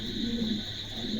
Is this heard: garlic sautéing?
no